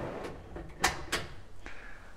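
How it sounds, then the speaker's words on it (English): A push-to-open drawer with adjustable dividers closes in a camper kitchen, giving a few soft, quiet knocks and a light slide-and-click spread over a couple of seconds with low background hiss. "Below the cabinets, we've got two push-to-open, push-to-close drawers with adjustable dividers"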